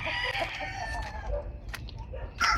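Roosters and other game fowl crow and cluck on a backyard game farm in Ilocos Norte, several calls overlapping at moderate distance with a sharper squawk near the end.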